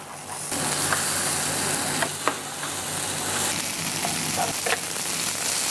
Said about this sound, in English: I just use spatula and press it against the pan so the bottom is start to get crispy